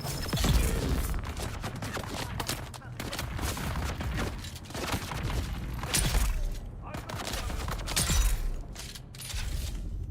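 Video game gunfire fills the scene as steady, heavy bursts of shots with mechanical clatter, loud and continuous throughout, with a voice speaking over it now and then.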